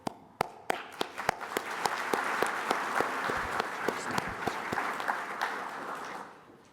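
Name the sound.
audience applause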